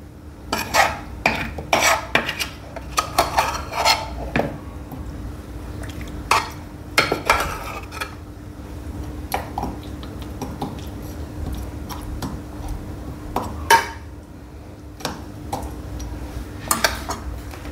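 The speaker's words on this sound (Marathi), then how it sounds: "ज्या भांड्यात मी तांदूळ शिजवले होते त्याच भांड्यात मी आता लेयर्स लावते" Mutton and rice are layered for biryani in the same cooking pot the rice was cooked in, giving repeated sharp metallic clinks and scrapes of a utensil against the pot in irregular bursts, close and clear, with no talking.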